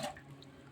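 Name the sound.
water poured into a cooking pan with kasuri methi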